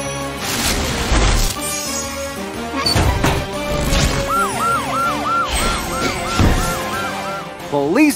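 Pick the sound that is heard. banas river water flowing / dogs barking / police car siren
police car siren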